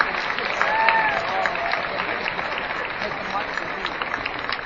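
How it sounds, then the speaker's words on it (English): An audience at a veterans assembly applauds the flag detail team, a steady wash of clapping from a crowd with some voices mixed in, sustained throughout. "Give a round of applause again for the flag detail team."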